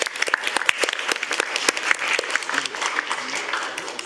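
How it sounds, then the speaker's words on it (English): A seminar audience at an international parliamentary research meeting claps for a presentation. Moderate, fairly sparse individual claps form a steady patter, with no voices over it. "Thank you for your presentation, and give again a warm applause."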